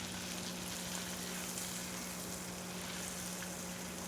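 Food fries in a pan for an old-fashioned American breakfast, a constant dense sizzle close by, steady and unbroken over a low hum.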